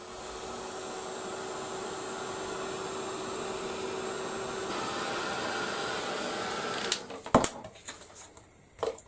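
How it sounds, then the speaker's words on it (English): A heat gun blows a steady, even rush of air over a handmade card for several seconds, then cuts off, leaving a few sharp knocks and handling clatter nearby. "going to just give that a quick blast with the heat gun"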